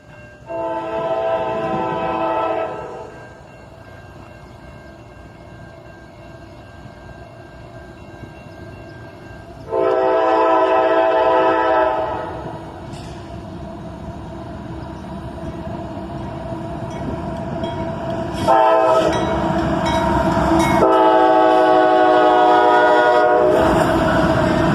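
A freight train led by two old GE AC44CW locomotives in YN2 paint rolls past at a bridge, loud steady engine and wheel rumble with repeated long blasts of the horn.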